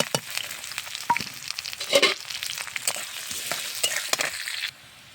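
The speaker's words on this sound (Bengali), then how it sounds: "আর এই যে ঝাল পেঁয়াজ রসুন তেলে ভাজতে দিয়েছি" Chopped green chili, onion and crushed garlic frying in mustard oil, a crackling sizzle with busy scraping and clattering stirs close up, then it suddenly drops to near quiet at the end, with no voices.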